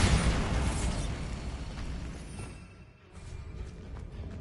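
Hogwarts Legacy Bombarda explosion spell going off as a loud, dense blast that roars across all bands, fading briefly near the three-second mark before rumbling back up.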